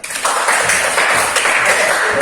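Classroom applause during a music lesson for teachers in training: many hands clapping steadily and densely for about two seconds, loud and close, with no pauses.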